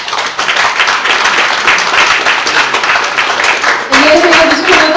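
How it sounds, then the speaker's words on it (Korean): Audience applause at a book launch event in Korea greets a musical actress, a dense, steady clapping that fills the room for several seconds, loud and close, with a voice briefly surfacing near the end. "여러분 큰 박수로 부탁드리겠습니다."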